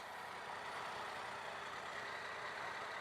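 A 2018 Triumph Tiger 800 XRt motorcycle's exhaust gives a steady, even engine drone at moderate distance, holding a constant note without clear revving changes.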